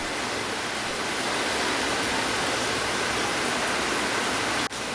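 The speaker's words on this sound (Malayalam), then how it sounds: "ഞാൻ സംസാരിക്കുമ്പോഴൊക്കെ ഇവിടെ നല്ല മഴയാണ് അതുകൊണ്ടാണ് ഇവിടെ ബാക്ക്ഗ്രൗണ്ടിൽ ഇങ്ങനെ ഒച്ചയൊക്കെ" Dense, steady roar of heavy rain fills the scene, loud and unbroken throughout, with a brief thump near the end.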